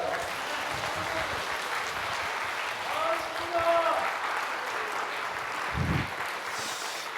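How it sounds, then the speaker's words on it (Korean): A church congregation applauds during a revival service, a broad, steady wash of clapping with voices and other sounds mixed in underneath, continuing evenly throughout. "나오실 때 큰 박수로 우리 맞이하겠습니다"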